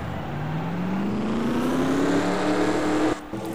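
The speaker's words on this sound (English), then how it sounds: "we just got the command to start the engines" Race truck engines firing up together in a NASCAR Truck Series racing video game, Kroger 200 race: a steady, close engine drone whose pitch climbs as the trucks rev, then cuts off abruptly near the end.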